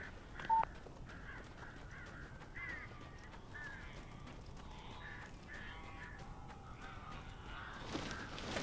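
Crows caw in the video game Alan Wake Remastered, a string of harsh, fairly faint calls over a dim ambient backdrop, ending in a louder rush of noise.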